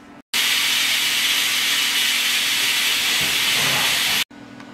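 A pressure cooker holding a can of condensed milk lets out a loud, continuous steam hiss for about four seconds, cutting in and out abruptly.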